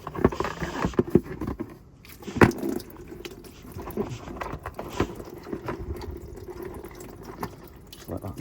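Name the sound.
old coolant draining from a VW T4 camper engine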